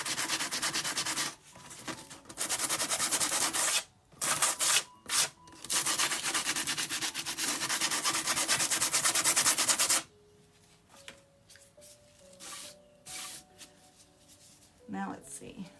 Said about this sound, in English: Run some sandpaper over it anyway.